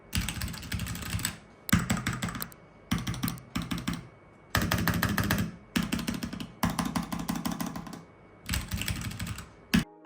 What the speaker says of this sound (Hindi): ये एक मैकेनिकल कीबोर्ड है